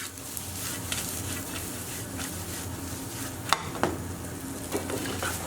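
Prawns with chopped parsley and coriander frying in a pan, a steady close sizzle with stirring scrapes and a couple of sharper utensil knocks, no talking.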